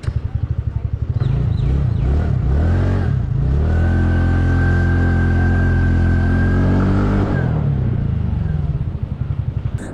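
A TVS Ntorq 125 scooter being ridden on the road, its small engine starting with a pulsing idle, then revving up into a sustained rising whine and dropping back to a throbbing idle, loud and close with no talking.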